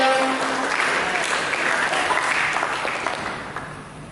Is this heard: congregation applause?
yes